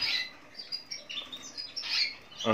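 Pet birds chirp softly indoors, with faint, scattered high tweets and brief flutters in a quiet room.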